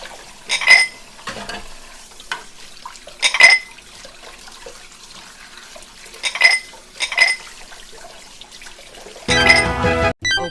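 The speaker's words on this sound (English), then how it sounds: "Washing dishes with hot water." Dishes being washed under hot water, with short bursts of clinking and splashing spaced a few seconds apart and a louder run of running water and clatter at the end, close by with no talk.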